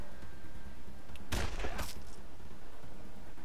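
Gunfire in a video game aimed at a lobber enemy comes as a short, loud cluster of shots around the middle of the moment. A quieter game background hums before and after.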